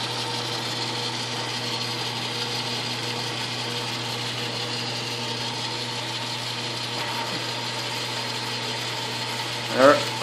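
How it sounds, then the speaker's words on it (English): A Myford ML7 lathe runs steadily with its chuck and lead screw turning, giving a constant mechanical hum and whir with a faint knock near the end. "You can see the chuck's turning away there. Lead screw is turning."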